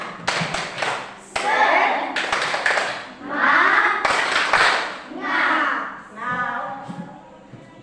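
A class plays tepuk semangat, a group rhythmic clapping game: sharp bursts of claps in set patterns alternate with voices chanting in unison, near and lively.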